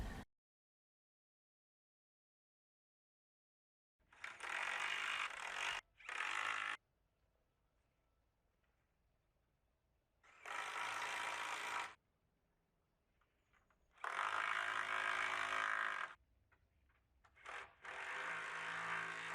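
Connectors are screwed onto geodesic dome struts for the third level of a 3V Kruschke flat-base dome. Several separate bursts of close, harsh, ratcheting driver noise stand out against near silence, each lasting one to two seconds.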